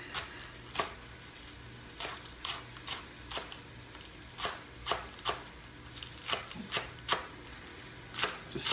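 A knife slices through vegetables on a cutting board while cooking, giving crisp, irregular chops spread across the clip, close and fairly quiet, with no talking.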